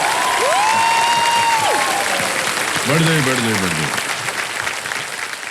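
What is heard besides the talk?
studio audience applause on KBC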